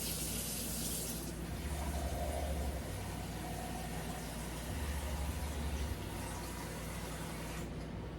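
Roughly two cups of water pour steadily into a pot while cooking, a continuous rushing splash lasting several seconds over a low background hum.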